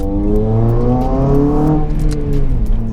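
A modified 2007 Honda Civic Type R with 153,000 miles accelerates hard on the road, its engine note climbing loud and close through the revs, then dropping back and building again.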